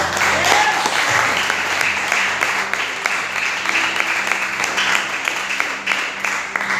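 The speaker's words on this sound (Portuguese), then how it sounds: "Você que pode aplaudir os céus bem forte" A church congregation claps loudly and steadily through the whole stretch, a dense continuous roar of applause with faint murmuring voices beneath.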